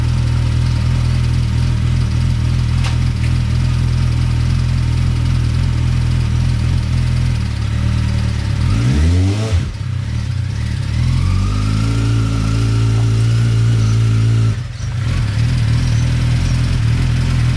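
A homemade go-kart engine idles steadily and loud up close, then revs up in a sharp burst and settles back into a rough idle, with a brief dip near the end.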